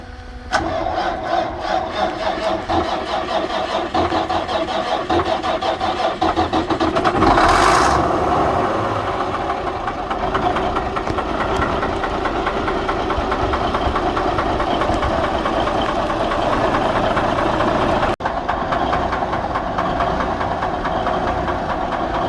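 A Freightliner cabover semi rollback truck's diesel engine runs steadily, a loud, continuous mid-pitched idle rumble up close, with a brief rise around the middle and a slight dip near the end.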